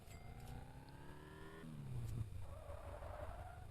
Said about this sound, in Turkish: Drift yapıyoruz. Ford Ford sürüyoruz gördüğünüz gibi.